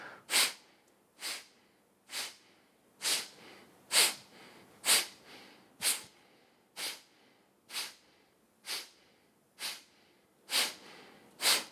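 Forceful kapalabhati belly exhalations in a breathing exercise come as sharp, evenly spaced nasal bursts, about thirteen of them at a steady rhythm, close and clear with silence between.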